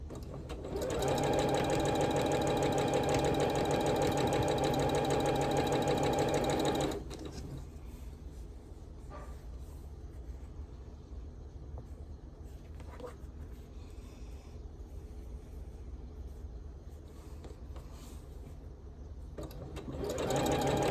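Quilt blocks being stitched on a sewing machine: a loud, steady whirring run of about six seconds, then quiet handling and faint rustles before the motor starts again near the end.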